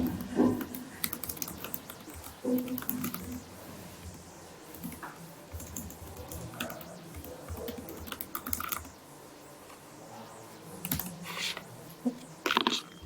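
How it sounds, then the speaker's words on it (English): Steady typing on a computer keyboard, key clicks tapping in quick irregular bursts across the whole stretch, fairly close, with brief pauses and a few louder strokes near the end. "Okay, let's type."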